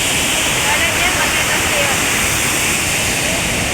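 Loud, steady rush of water at the Mahakanadarawa reservoir gates, broadband and constant close by, with a faint hint of voices beneath the roar.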